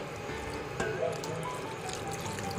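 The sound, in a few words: water being poured into gravy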